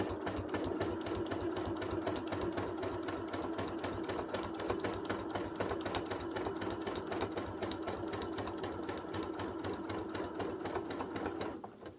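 A sewing machine stitches through quilting fabric in one unbroken run, its needle hammering in a fast, even mechanical rhythm with a low motor hum underneath, close and steady until it stops at the very end.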